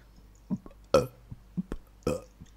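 A string of short belches, about five or six loud bursts with brief gaps between them, close and alone with faint background hiss.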